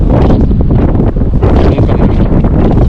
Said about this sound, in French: On va voir, il y a un peu de vent malheureusement.